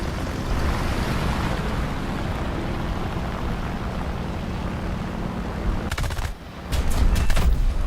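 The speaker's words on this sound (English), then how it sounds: "These machine guns are pretty good." Aircraft machine guns firing in War Thunder, a steady dense roar of automatic fire with rumbling engine noise through most of the stretch, then sharp separate bursts near the end.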